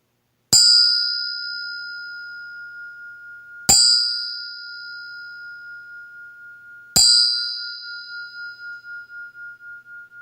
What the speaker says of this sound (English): I'll sound this triple bell